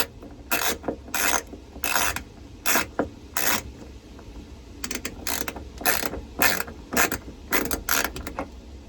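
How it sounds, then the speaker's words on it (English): A wrench working a nut off sailboat deck hardware, a rapid series of short, sharp ratcheting and grinding bursts separated by brief pauses, close and fairly loud. "you're going to want to get a wrench or anything really to get this nut off"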